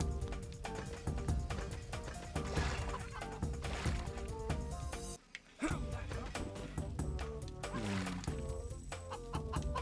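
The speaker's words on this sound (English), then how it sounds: "Why are there always so many chickens?" Chickens cluck within busy game music and effects in the Shrek video game, the clucking blended into a dense, continuous soundtrack with a brief silent gap partway through.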